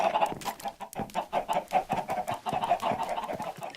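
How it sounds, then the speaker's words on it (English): Chickens clucking steadily in a Minecraft chicken farm, a dense run of short repeated clucks at close range with no talk over them. "Those chickens are really annoying me."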